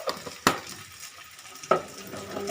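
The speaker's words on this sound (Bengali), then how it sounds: "হলুদ দিয়ে নাড়াচাড়া করতে করতে" A potato, carrot and green pea sabji with turmeric being stirred in a pan, with soft sizzling and two sharp scrapes of the spoon against the metal.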